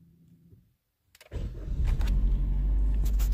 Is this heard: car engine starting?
yes